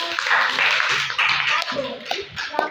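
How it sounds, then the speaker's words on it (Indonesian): Students in a classroom give group 1 a short round of applause, a brisk burst of close clapping lasting a few seconds, with voices mixed in. "Berikan aplaus untuk kelompok 1"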